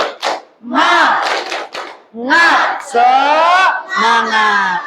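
A classroom of teachers-in-training shouts a rhythmic clap-and-cheer chant together, voices in bursts with short pauses, loud and close.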